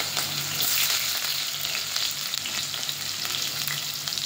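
Onion and garlic frying in a pan, a loud, continuous crackling sizzle with bright spitting texture and no talking.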